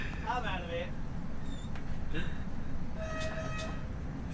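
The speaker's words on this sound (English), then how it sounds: "This is an intercity rolling stock electric multi-unit operating on the Nederlandse Spoorwagen" An intercity electric multi-unit train running on the Zwolle–Groningen line in the Netherlands in a train simulator, with a steady rumble of running gear and brief horn-like tones, heard under ongoing talk.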